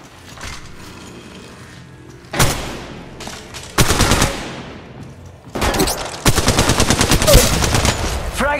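Bursts of automatic weapon fire in the mobile shooter Apex Legends Mobile, loud and close, coming in several sharp volleys with brief pauses between, the final stretch a sustained rattling stream of rapid shots.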